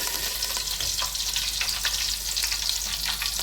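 Garlic and curry leaves sizzle in hot frying oil for a mushroom curry, giving a steady, dense crackle with small pops throughout. The sound is close and loud, with no talking.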